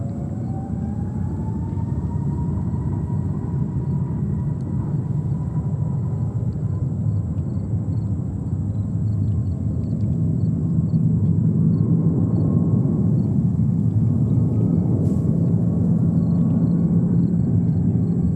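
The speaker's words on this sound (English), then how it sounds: "And it is Delta Airlines and a 321neo." A Delta Air Lines Airbus A321neo at New York's JFK Airport produces a steady, continuous jet roar with a low rumble that holds for the whole stretch, with no voices.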